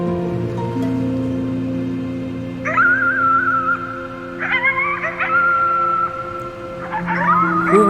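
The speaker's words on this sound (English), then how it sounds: "You howled at the moon" A wolf howls at the moon in the game Before Your Eyes, with long rising and falling wails and whimpering yips that come loud and close over a steady musical drone.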